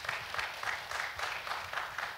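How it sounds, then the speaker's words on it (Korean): Applause from a lecture-hall audience, even sustained clapping heard from a distance at low volume, with no voices over it. "박수 한번 보내주세요"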